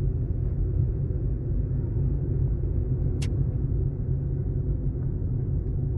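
A car driving slowly at 30 km/h through a school zone, heard from inside as a steady low engine and road rumble with no breaks and one brief high tick partway through.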